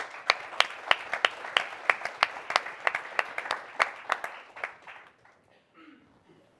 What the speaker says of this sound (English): ask you to kindly give them a round of applause.